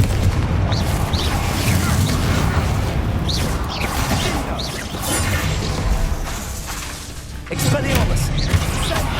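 Confringo fire spells burst in Hogwarts Legacy, giving repeated booming blasts with whooshing tails amid continuous combat noise, loud and near, while a voice talks over them.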